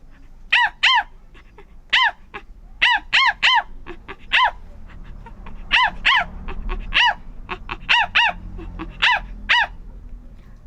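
A human voice mimics a puppy barking with sharp, high yips. They come alone in quick bursts of two or three, with short pauses between bursts.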